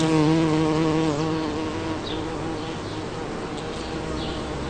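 Bees buzz in a steady, close, harmonic drone that stays loud throughout and eases slightly after the first second.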